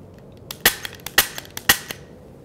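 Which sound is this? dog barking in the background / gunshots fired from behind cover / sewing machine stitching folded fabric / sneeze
gunshots fired from behind cover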